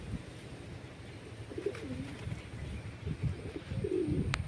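Soft, low cooing of pigeons repeating over a murmuring background, with a faint sharp tick near the end.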